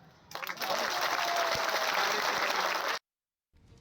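Dense crowd applause at a BJP political gathering, a loud, steady wash of clapping that starts abruptly and cuts off sharply after about three seconds, with faint noise returning afterward.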